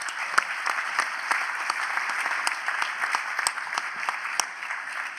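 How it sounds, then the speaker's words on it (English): Audience applauds a symposium panel in a large hall, with steady dense clapping and a few sharper claps standing out, sustained throughout and heard alone. "let's give each a big round of applause"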